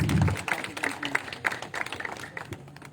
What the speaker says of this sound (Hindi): एक बार सर के लिए जोरदार ताली हो जाए।